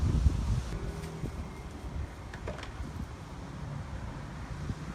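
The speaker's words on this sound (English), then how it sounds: "Boy, we got this wind starting to pick up." Gusty wind blowing outdoors in an alleyway garden, a steady low rumble buffeting the microphone with brief rustling swells, continuous and fairly loud throughout.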